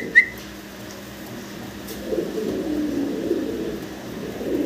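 Large fancy pigeons cooing nearby, soft low throaty coos repeating over a faint background, with one short sharp chirp near the start.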